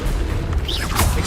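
A Confringo fire spell from Hogwarts Legacy blasts in a short, loud boom with a whooshing burst, heard up close and alone.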